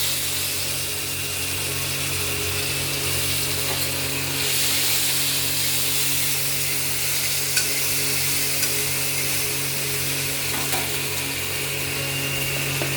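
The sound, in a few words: chopped tomato and dried chili frying in oil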